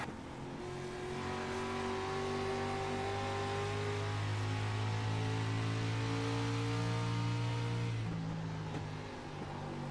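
Onboard a number 7 street stock race car lapping a track, its engine droning loud and steady with rising and falling revs through the laps, close and continuous with no talk.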